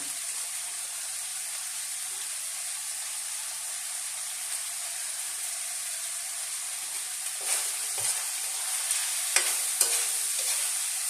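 Seasoned pork sizzling in a pan as it browns, a steady loud hiss throughout with a few stirring scrapes and clinks near the end.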